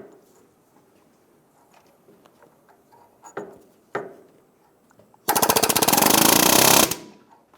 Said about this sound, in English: Using a punch and a hammer, we're going to go on the side of this plug, make a little divot, and then push it around